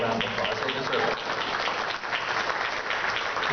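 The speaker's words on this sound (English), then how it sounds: "We can give them a round of applause." An audience at a League of Women Voters county commission candidates forum in Marion County, Florida, gives a steady round of applause, dense and sustained throughout with no gaps.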